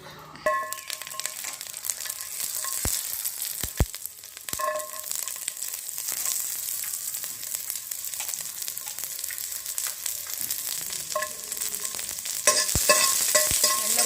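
Pirandai, the adamant creeper, roasts in a pan for pickle with a continuous soft sizzle and repeated scraping stirs, several sharp clicks of the spatula, and the frying growing louder near the end.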